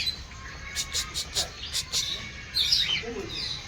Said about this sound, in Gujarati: ચલો ઊંચા બાલ વાળા પોપટ છે આ.